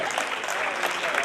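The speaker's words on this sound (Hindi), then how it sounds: "मिलकर ताली बजाइए एक बार सर" An audience bursts into brief, dense clapping during a live comedy or poetry show, a short burst of applause heard close and moderately loud.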